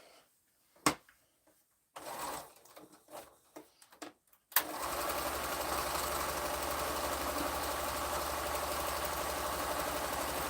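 A sewing machine runs a regular straight stitch on a quilt scrap, a steady close motor whir that starts after a few clicks and fabric handling and goes on without a break.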